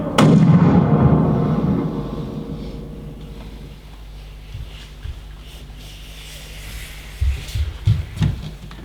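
A single loud gunshot from a gun pressed against a can booms and echoes away, followed by a few faint thumps in the quiet.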